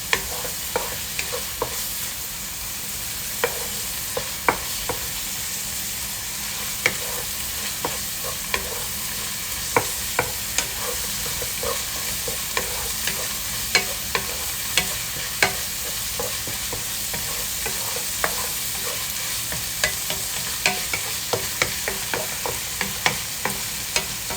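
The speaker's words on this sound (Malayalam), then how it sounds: "ഇതിപ്പോൾ നന്നായിട്ട് ഇളക്കി ഞാൻ സെൻറ്ററിലോട്ട് ആക്കി വെച്ചിട്ട് നന്നായിട്ട് ഇളക്കി യോജിപ്പിച്ച് വെച്ചിട്ടുണ്ട്" Fish roe thoran frying in a pan, a steady soft sizzle punctuated by frequent light scraping clicks of stirring throughout, close and quiet, no voices.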